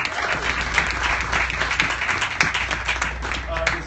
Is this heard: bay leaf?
no